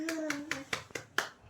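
A young child claps their hands about six times in an uneven rhythm, each sharp clap close and fairly loud, with a voice briefly heard over the first few claps.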